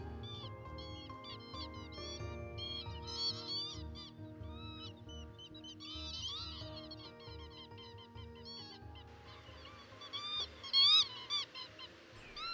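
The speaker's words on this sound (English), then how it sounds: "These bar-tailed godwits have traveled from the Arctic to overwinter here." Bar-tailed godwits call on estuary mudflats, a flock giving repeated nasal, honking yelps over a low background murmur, with a louder burst of calls near the end.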